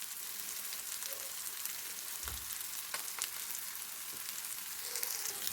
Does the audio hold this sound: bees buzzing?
no